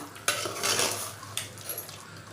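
A spoon scrapes and clanks through Malvani chicken biryani masala in a pot over a light sizzle, with a few sharp metal knocks and brisk stirring close up, no voices.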